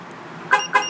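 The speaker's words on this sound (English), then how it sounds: "honking horn, flashing light, siren underneath the hood." Two quick, loud horn honks from a Silencer SL-62 alarm on a 2007 Chevrolet Silverado, short bright toots in close succession, heard near and alone.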